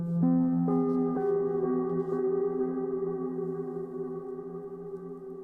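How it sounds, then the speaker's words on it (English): Sustained ambient synth tones fade slowly, with repeated echoes stacking and trailing away as the music winds down; no voices. "This creates a delay at the end of the track during the outro."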